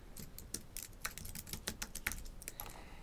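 Rapid typing on a computer keyboard while an online payee form is filled in, a steady run of close, crisp key clicks with no one talking.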